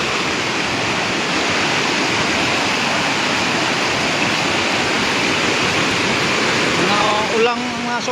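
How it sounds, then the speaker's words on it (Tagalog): Loud, constant roar of rushing floodwater fills the scene without pause, a dense broadband wash heard up close, with a brief faint tonal sound near the end. "Malaki na yung baha mga kaidol."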